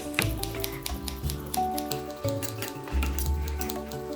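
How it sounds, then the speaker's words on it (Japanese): Scissors snip cold Korean naengmyeon noodles into small pieces, a quick run of crisp cuts close by over steady background music. "つまみが欲しい時、こうやってハサミを持ってこうやって細かくカッティングしますよ。"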